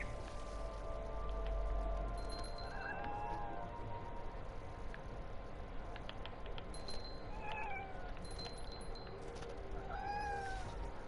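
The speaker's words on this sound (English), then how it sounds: "I hear a cat." A cat meows repeatedly in the video game What Remains of Edith Finch, several short rising calls spaced through a steady ambient game backdrop, moderately faint with no talking.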